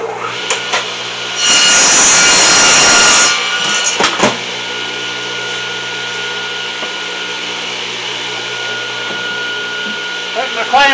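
Saw cutting through stacked wooden fence pickets at a 45-degree angle, a loud close whine lasting under two seconds, then the motor running on with a few knocks.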